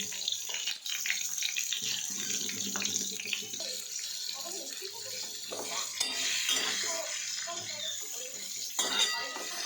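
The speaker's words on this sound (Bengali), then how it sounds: "পটল ভাজতে শুরু করে দিয়েছি" Pointed gourd fries in hot oil in a kadai, a soft continuous sizzle with intermittent stirring clatters, fairly quiet and close, with faint voice at times.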